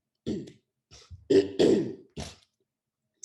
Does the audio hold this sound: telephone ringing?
no